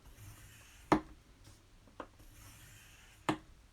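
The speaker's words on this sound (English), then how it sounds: "we're going to cut this right on that score line" Paper being cut along a score line with a trimmer for a men's memory book craft project: three sharp, separate cutting snaps spaced about a second apart over a quiet room background, with no talking.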